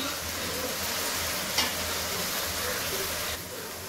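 A spice paste of ginger, garlic, cumin and dried chillies and chopped tomatoes hit a hot pan. A continuous close sizzle follows, with a single stir knock midway, and it eases slightly toward the end.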